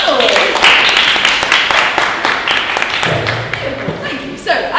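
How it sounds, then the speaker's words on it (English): Audience applause for a panel at a live events careers session, a burst of clapping with scattered chuckles over about five seconds, then a voice speaking near the end. "Can we have a round of applause for our panel?"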